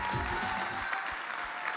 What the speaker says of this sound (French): les applaudissements viennent les récompenser